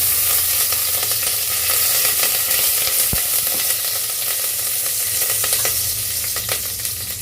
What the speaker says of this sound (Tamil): சோம்பு, சீரகம் கொஞ்சம் போட்டு நல்லா ஃப்ரை பண்ணிவிடுங்க.